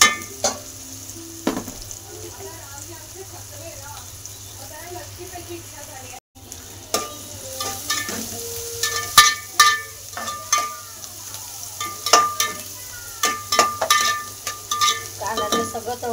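Onions sizzling in a pan for a dry chicken bhaji; a soft fry with brief talk at first, then brisk stirring brings frequent clanking spoon strikes over a steady crackle, all close by.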